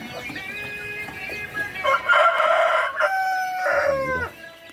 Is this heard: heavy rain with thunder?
no